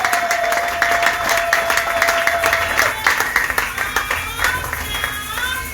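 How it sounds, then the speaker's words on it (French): A church congregation applauds loudly during a sermon, with dense, sustained rhythmic clapping that fills the room and carries some voices underneath. "Acclamez très fort pour le Seigneur"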